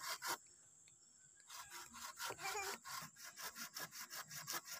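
A hand saw cuts through wood for a hut frame in steady back-and-forth strokes, rhythmic and close, with a brief pause before the sawing picks up again.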